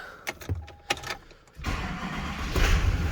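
A 2005 Chevy Silverado 2500HD pickup gets started after a few clicks and short cranks, then its engine catches and settles into a rising, rumbling idle close by.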